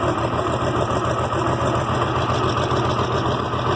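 An IH Farmall 706 tractor engine idles steadily at about 800 RPM after a carburetor change, a continuous close, loud low rumble with a rapid even pulse and no talking.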